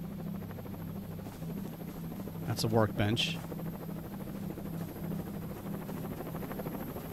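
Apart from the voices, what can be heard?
helicopter leaving in the video game XERA Survival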